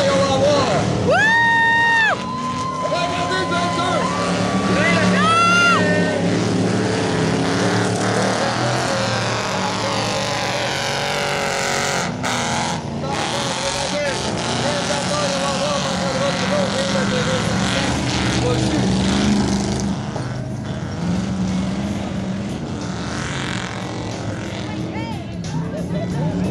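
Eight-cylinder 305 stock cars in a bazou qualifying race roar past on an oval track at La Guadeloupe, engines droning loudly and continuously with a watching crowd and a commentator speaking over the noise.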